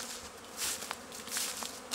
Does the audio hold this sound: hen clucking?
no